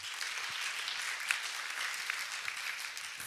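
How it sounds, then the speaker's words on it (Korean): An audience at a quantum technology conference session applauds a speaker, producing a steady, moderately quiet patter of many hands clapping with no voices over it. "큰 박수 한번 더 주시면 고맙겠습니다."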